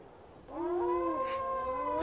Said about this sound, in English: He howls to keep our pack together.